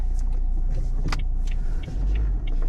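Car moving along a side street, a steady low engine and road rumble heard from inside the cabin with a few faint clicks and ticks, no talking.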